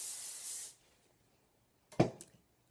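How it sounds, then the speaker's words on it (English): Hairspray sprayed onto hair from an aerosol can, one close, bright hissing burst lasting under a second, followed by silence and then a short rustle of handling. "then I just take my hairspray and I spray it on"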